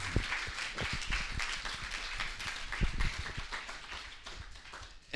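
A seated audience at an arts talk applauds at moderate to faint level, a steady patter of many hands clapping with a few louder individual claps, with no speech over it.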